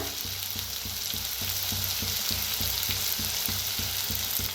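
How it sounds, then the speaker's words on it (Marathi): Potatoes roasting in a pan give a steady sizzle, cut by a regular rhythmic knocking as a spoon stirs and taps against the pan. "मस्त असं बटाटो भाजून घेऊया।"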